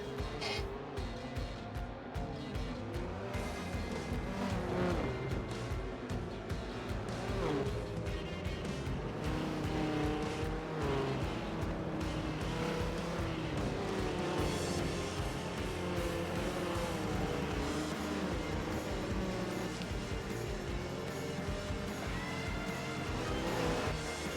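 Race cars in Forza Motorsport 7 roar steadily around Circuit of the Americas, a dense, continuous engine drone of a close pack with rising and falling pitch.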